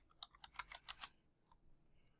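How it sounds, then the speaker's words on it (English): A short burst of quick keystrokes on a computer keyboard, about a second of close, quiet tapping followed by a pause and a single faint click. "we'll type in People."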